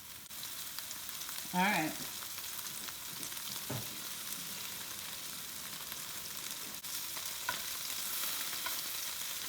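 Meatballs brown in a frying pan, a low steady sizzle running throughout, with a short spoken remark and a couple of brief utensil knocks near the start.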